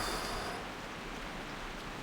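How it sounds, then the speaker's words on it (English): Heavy rain in World of Warcraft, a dense steady hiss of falling water with no distinct drops, soft and continuous with no talk. "That rain sounds pretty good. Heavy."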